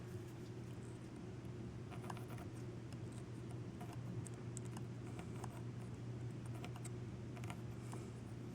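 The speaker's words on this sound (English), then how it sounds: "Now I'm going to attempt to scrape the paper and paint in the center area" A metal pin scrapes paper and paint off the center of a signaling mirror, a faint, quiet run of fine scratchy ticks in uneven bursts over a steady low hum.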